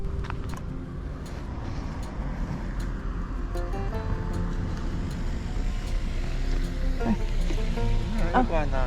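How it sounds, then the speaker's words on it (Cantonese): A loud AFCD (Agriculture, Fisheries and Conservation Department) vehicle drives past on a road near a Hong Kong country park campsite, its engine noise building and swelling as it approaches over a steady outdoor background. "聽到車聲好大聲啊！ 我停低讓架車行先"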